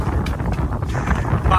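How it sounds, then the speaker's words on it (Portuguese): Strong wind gusting across an outdoor site in João Pessoa, a steady broadband rush and buffeting roar over the microphone, loud and continuous, with a voice faintly underneath. "Rapaz, que ventania."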